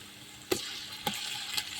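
Spices sizzle in hot oil in a pan on a wood-fired stove for chicken machboos, a soft steady frying hiss broken by three brief stirring clinks.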